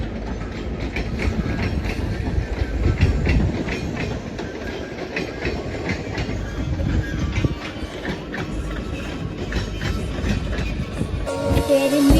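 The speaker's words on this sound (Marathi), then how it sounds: "ट्रेन आली बघू शकता" A train rolls past close by, a continuous heavy rumble with rhythmic clickety-clack of wheels over rail joints, loud throughout.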